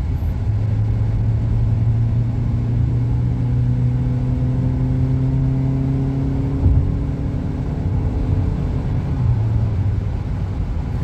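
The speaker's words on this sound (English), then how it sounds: "Keep in mind, what you are seeing here is me flooring it." A 2023 Suzuki Grand Vitara Mild Hybrid runs at full throttle, its engine droning in a loud, steady interior rumble with rising whirring tones that climb only slightly and never break for a downshift, with no voices.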